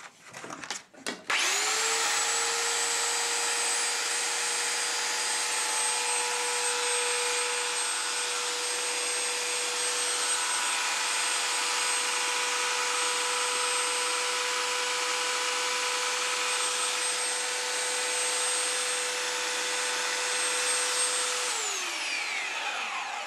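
A cheap belt sander starts with a short clatter, then runs at a loud, steady high-pitched whine with a rough motor roar for about twenty seconds before spinning down, close and alone.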